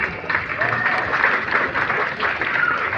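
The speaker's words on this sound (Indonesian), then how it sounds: "boleh tepuk tangan" Dense, steady crowd applause fills a stadium during a National Easter celebration attended by thousands at Sanggen Stadium in Manokwari. It is loud and continuous for the whole stretch, with no break.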